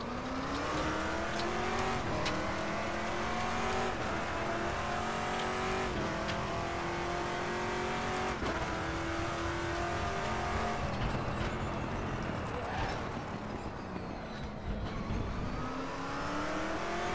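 Race cars lapping Twin Ring Motegi in RaceRoom Racing Experience, a steady loud engine note climbing and dropping through gear changes, with brief tire squeal and no talk.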